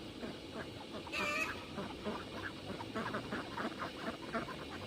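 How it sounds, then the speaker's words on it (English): Ducks crowded around a small water tray, squabbling with harsh honking and quacking calls over constant splashing and scuffling, close and busy throughout. "each duck wants in there, and they just fight over it and fight over it"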